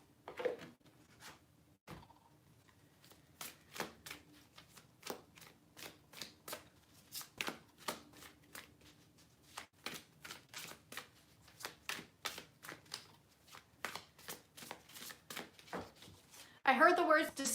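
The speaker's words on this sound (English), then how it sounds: "I'm going to pull some cards" A deck of tarot cards being shuffled again and again, a long run of quick close riffling snaps and flutters in steady bursts, with a louder rustle at the end and no talk over it.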